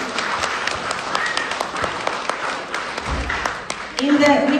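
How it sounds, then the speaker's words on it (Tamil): Audience at a school event claps for grade 3 students after their performance, a moderate scattered patter of hands with a voice speaking over the end. "மாணவ மாணவியருக்கு மீண்டும் உங்களது முழுமையான கரகோஷத்தை வழங்குங்கள்"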